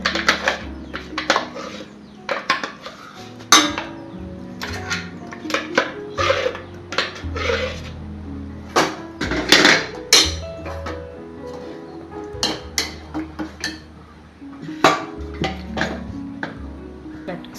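Metal pots and utensils clatter and clink in a home kitchen while Kerala-style chickpea curry is transferred into another vessel, a busy run of close, irregular knocks and scrapes across the whole stretch.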